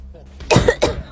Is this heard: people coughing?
yes